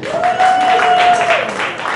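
Comedy club audience at a stand-up show breaks into steady applause and clapping for about two seconds, fairly loud and continuous, with crowd murmur and a faint sustained tone running through it.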